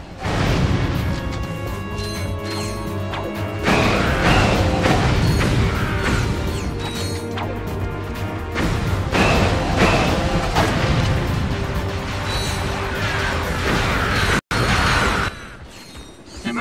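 Shock blaster shots and heavy explosions in the Ratchet & Clank: Up Your Arsenal game, loud repeated crashes and booms over a dense, constant battle din, with one brief dropout near the end.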